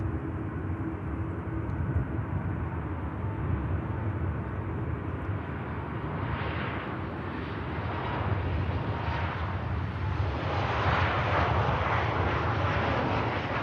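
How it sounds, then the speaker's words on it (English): A Malta Air airliner lands at Manchester Airport with a sustained, distant jet roar that swells and brightens into a broad rushing rumble as it touches down. "Nice touchdown from the Malta"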